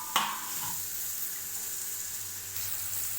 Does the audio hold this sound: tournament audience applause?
no